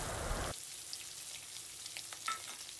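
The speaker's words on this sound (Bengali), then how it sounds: "এবার আমরা পেঁয়াজ আর কাঁচা লঙ্কা হালকা করে ভেজে নেব।" Onion and green chilli fry lightly in a pan for a mushroom dish, giving a faint, steady sizzle with soft crackles, close and alone, after a louder burst at the start.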